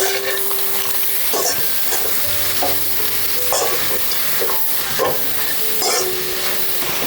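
Pepper, soy sauce, tomato sauce and sugar are stirred together in a hot pan, a steady close sizzle under repeated scraping strokes of a utensil, loud and continuous, with no talking.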